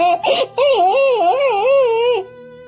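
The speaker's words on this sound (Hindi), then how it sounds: "अरे ये रोने की आवाज किसकी है?" A boy crying, a close, loud wavering wail with sobbing breaths that rises and falls for about two seconds, then stops abruptly.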